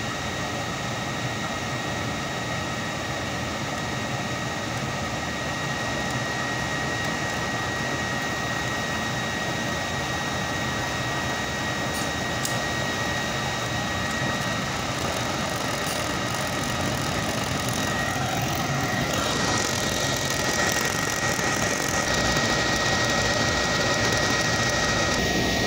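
A Nu-Way NDFL13 oil burner cycles through its firing sequence, giving a steady, loud broadband roar with a faint hum and a slight change in tone toward the end, with no talking.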